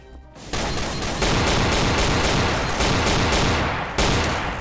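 Loud, dense burst of rocket launcher fire in the video game Garry's Mod: explosive blasts that start abruptly and continue as a sustained roar, close and harsh.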